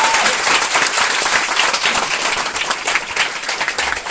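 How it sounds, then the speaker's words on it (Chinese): A packed hall at a company president's address breaks into loud, sustained applause, a dense wash of many hands clapping that holds steady throughout with no speech over it. "我们给他们一个热烈的掌声"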